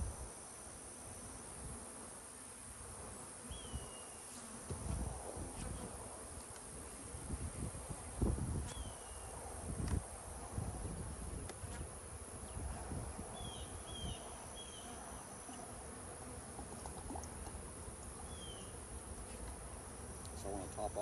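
Honey bees buzz around beehives at an outdoor apiary, making a soft, continuous hum with occasional louder passes close by and faint bird chirps in the background.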